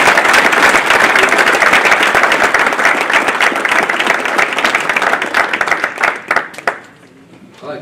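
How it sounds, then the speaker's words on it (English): Audience applause at a high school athletic hall of fame induction in Miamisburg, loud dense clapping from a crowd in a hall that holds steady, then thins out and dies away near the end. "Let's give him a big round of applause."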